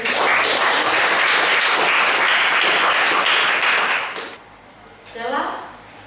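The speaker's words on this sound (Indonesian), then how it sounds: "Kita berikan aplaus untuk pembelajaran kita." A classroom full of pupils clapping in applause for the lesson, a loud dense burst of clapping lasting about four seconds before fading, followed by a brief voice.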